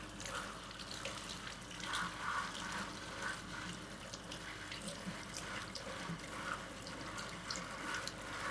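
Tap water running steadily over plant leaves while they are washed, a continuous splashing rush with small shifting spatters, close and even throughout.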